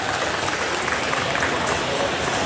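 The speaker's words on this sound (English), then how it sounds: "Give him a round of applause as he heads out too." Audience at a gaming-convention family-feud style stage show applauds in a steady, dense wash of clapping and crowd noise lasting the whole moment.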